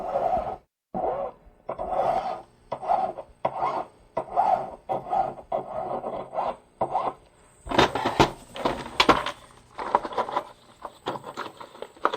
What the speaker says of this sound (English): Now I'm going to trim the rest of the ring up.